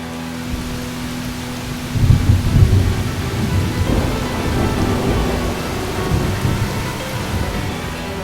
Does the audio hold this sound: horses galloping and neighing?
no